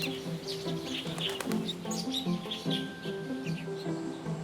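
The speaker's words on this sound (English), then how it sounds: "The black bulbul calls for its family and other flocks of birds one after another." Black bulbul calls ring out one after another over a steady chorus of chirps, with a thin sustained whistle joining partway through.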